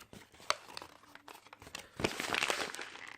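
Paper being crumpled by hand to shape model mountains, close crinkling and crunching in short bursts, then a denser, louder stretch of crumpling toward the end.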